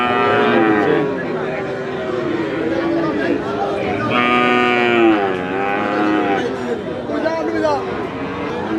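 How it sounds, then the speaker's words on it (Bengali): Calves at a livestock market, several loud drawn-out moos, one after another and overlapping, set against the chatter and babble of a crowd. "আমরা চমৎকার কিছু বাছুর দেখতে পাচ্ছি"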